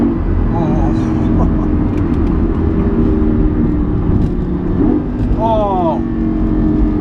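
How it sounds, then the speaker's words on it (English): A Lamborghini Gallardo engine rumbles loudly from inside the car, then revs up sharply in a rising, rippling burst on a downshift near the end, with a voice heard under the roar. "Now get a good downshift."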